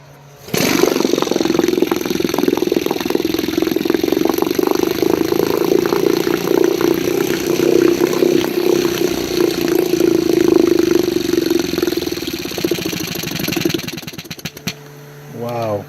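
An antique Elto Evinrude 1.5 hp canoe outboard motor fires up and runs, a loud, steady putter close by for many seconds before cutting out, with a person talking over it.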